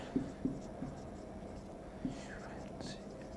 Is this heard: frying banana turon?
no